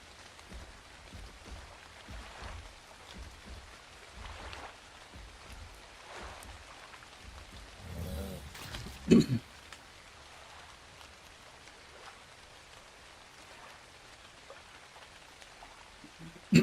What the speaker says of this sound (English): Of course, we got all the rain again.